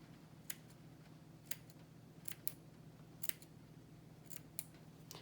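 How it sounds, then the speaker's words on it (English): Scissors snip excess glued material off a DIY gnome kit near its beard, a string of faint, crisp close-up cuts spaced irregularly, some in quick pairs, against a quiet background. "I'm just gonna wanna snip around as close to where the glue is to get all this excess off"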